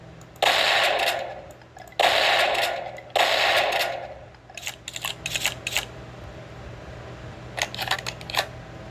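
Half-Life 2 beta shotgun firing in Garry's Mod: three loud, booming blasts spaced about a second apart, each fading out, then a cluster of quick mechanical clicks and clacks.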